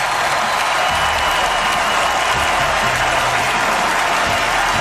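A crowd applauding a Trump endorsement at a political event, dense sustained clapping filling the whole stretch at steady loudness, with some crowd noise mixed in.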